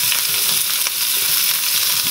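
Steady, loud sizzling of burdock frying in a hot pan, a dense crackling hiss that continues without pause.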